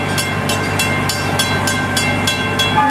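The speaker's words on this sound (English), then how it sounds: "as we make our final approach to the train station, please stay seated until we come to a complete stop" Gatorland Express, a small tourist train ride, rumbles along steadily with a loud, continuous rolling drone and evenly spaced rhythmic clacks, heard up close with no talk.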